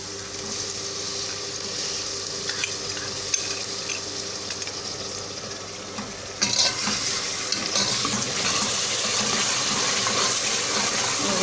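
A paste of ginger, garlic, green chili and red chili hits a hot pan for chicken korma, frying with a loud, steady sizzle. A sharper burst of spattering jumps in midway and keeps going, near and without speech.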